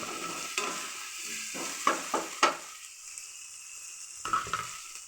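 Tomato, mint and coriander fry in a pan with a steady loud sizzle, broken by several sharp clinks of a spoon stirring against the pan.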